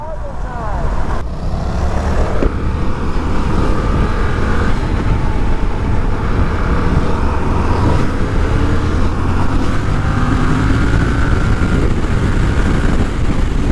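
Yamaha R7 sport motorcycle cruising on the Florida Turnpike at midday: steady, loud engine drone and wind rush with passing road traffic, continuous throughout, with a rider speaking over it.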